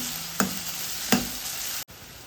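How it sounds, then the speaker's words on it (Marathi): Onion with bay leaves, ginger and garlic frying over a low flame, a steady soft sizzle with two brief sharp stirring clinks, then a short cut before the hiss resumes. "स्लो फ्लेमवर कांदा थोडासा फक्त मळसर होऊन द्यायचा आहे"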